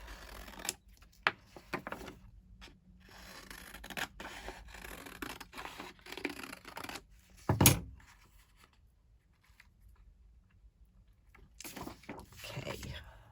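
Scissors snip and scrape through paper imagery in short, irregular bursts close by, broken by pauses and a louder handling clatter, with talking alongside.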